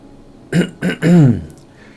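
Someone clears their throat close up: two short gruff bursts followed by a longer rumbling one, alone against a quiet background.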